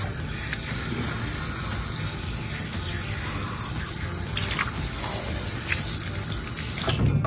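Water streams steadily from a salon tap while conditioner is rinsed out of hair, a close, continuous splashing hiss with slight shifts as the hair is moved under the flow.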